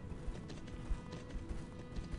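Steady padding footfalls of a lion riding mount in the online game Champions of Regnum, a soft continuous clip-clop rhythm under a dense, low-level game ambience.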